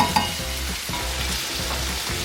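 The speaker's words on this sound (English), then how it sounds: "Ooh, look at that sizzle." Potatoes sizzle and fry in Irish butter in a pan, a steady close crackling hiss with stirring throughout, no talking.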